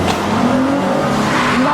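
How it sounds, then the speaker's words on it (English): A wedding car drives off with a loud, close engine roar and rising revs, with a faint tire squeal as it pulls away. "That's the wedding car."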